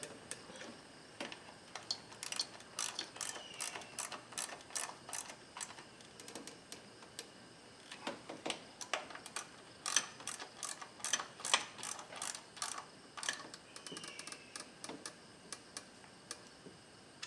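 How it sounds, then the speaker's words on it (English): A small hand ratchet tightens spark plugs on a Toyota/Lexus 3.3-liter V6 at 204,000 miles, giving quick bursts of crisp clicking pawl ticks in repeated runs, close and fairly quiet, with no voices. "I'm using a small ratchet so it's not over torqued."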